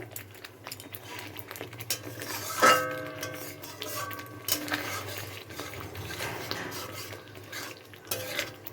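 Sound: stir-frying coriander powder spice mix in a pan

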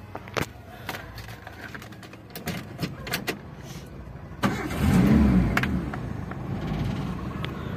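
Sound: Daihatsu Zebra Espass car engine starting and revving

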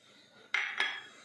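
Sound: adding dry fruits into melted chocolate in a bowl

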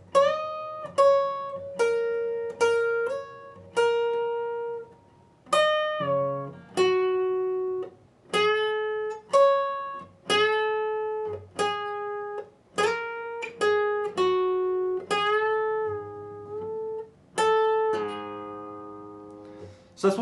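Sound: electric guitar playing part of a solo

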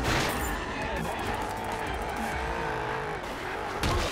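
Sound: car skidding and spinning out in Carmageddon Max Damage video game

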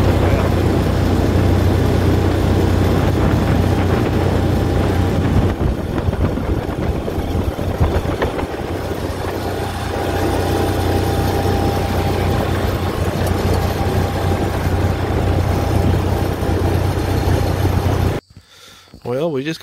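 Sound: Kawasaki Mule SX XC 4x4 engine starting and idling

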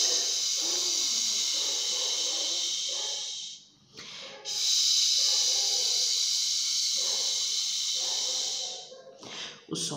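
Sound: rain sound imitated with the mouth

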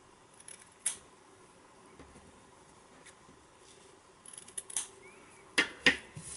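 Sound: scissors trimming extra bits of fabric

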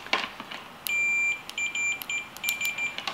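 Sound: multimeter beeping on continuity setting

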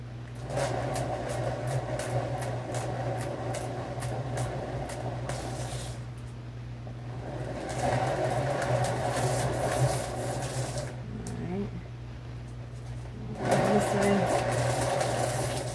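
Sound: paint spinner spinning a fluid art piece

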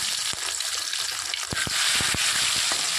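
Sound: tilapia fish frying in oil in a wok

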